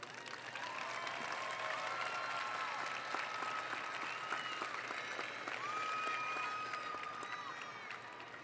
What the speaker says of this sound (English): A round of applause, you guys.